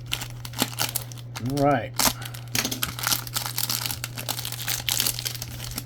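A football card pack's plastic wrapper crinkles and rustles in close handling, with brief crackling bursts beneath someone talking.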